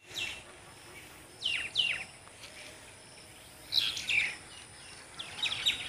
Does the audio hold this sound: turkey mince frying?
no